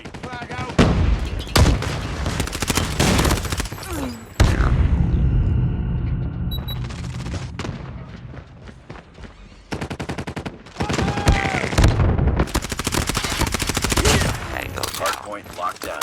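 Call of Duty Mobile hardpoint match on Shipment, with dense, loud bursts of automatic gunfire and shotgun blasts packed back to back, plus a lull with rumbling and game voice lines.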